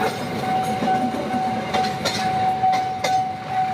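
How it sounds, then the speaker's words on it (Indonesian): A train rumbles past close by with a steady clickety-clack of wheels, a continuous loud roar with rhythmic clanks and no voices. "Ada berapa kereta ini mau lewat."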